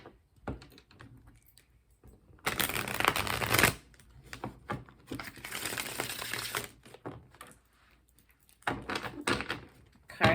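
A deck of tarot cards is shuffled by hand in several separate bursts of fluttering, riffling rustle, close and fairly quiet, with soft handling noises in the pauses between.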